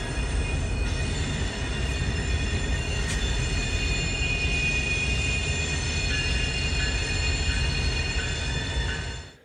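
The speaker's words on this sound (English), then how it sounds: "The train stopped at the end of the Y and waited for clearance to head out onto the main line through the Amtrak station." A BNSF freight train hauled by Warbonnet locomotives rolls through the Galesburg rail yard, a loud, steady rumble of wheels with sustained high metallic squeal from the rails, continuous throughout before easing off at the end.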